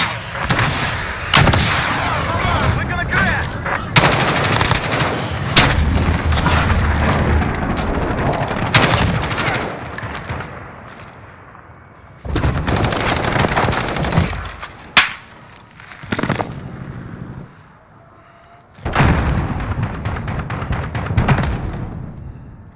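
Video game gunfire in Call of Duty: Modern Warfare: dense bursts of automatic machine gun fire and single shots with heavy booms, loud and nearly continuous, broken by a few brief lulls.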